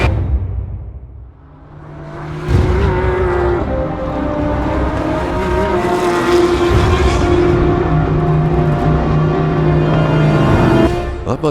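Race cars at a 12-hour endurance race, the number 30 MOMO car battling the number 45 Flying Lizards car, roar past with loud sustained engine drone and rising pitch after a brief quieter start.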